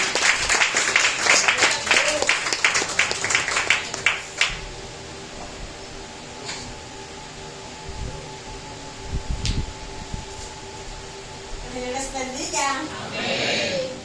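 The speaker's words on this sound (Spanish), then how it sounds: "Vamos a recibir un fuerte aplauso." A church congregation applauds a speaker being welcomed, with a dense burst of clapping in the first few seconds that fades out, followed by quieter room noise and a voice speaking over a steady hum.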